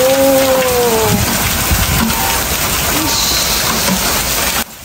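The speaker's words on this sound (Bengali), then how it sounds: "অনেক দিন পরে এরকম শিলাবৃষ্টি দেখলাম।" Hailstones falling in a hailstorm, a dense steady patter and hiss of ice striking surfaces, loud and close throughout, with a brief tonal whistle early on and an abrupt cut at the end.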